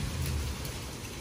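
Steady rain falls at night, a soft continuous wash of drops with a low rumble beneath, heard alone without voices.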